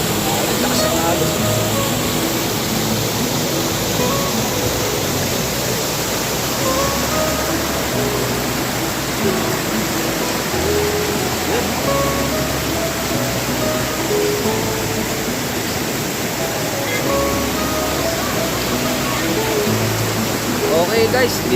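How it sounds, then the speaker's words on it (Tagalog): A strong mountain stream rushes in a steady, loud, continuous roar of churning water on a trek, with faint voices now and then beneath it. "Lakas ang agos."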